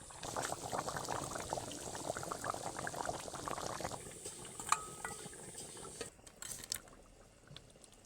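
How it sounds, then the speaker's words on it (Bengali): A thin homemade chicken curry broth with cumin and green chillies simmering in a pot, a close steady bubbling hiss that fades partway through, with a faint clink of utensils. "এটাকে আমি বেশ কিছু সময় ধরে ফুটিয়ে নেব"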